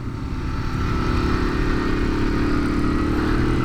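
A Moto Guzzi Griso motorcycle engine runs steadily while ridden, a loud, constant low throbbing drone with rushing wind and no change in pace, heard up close from a following bike.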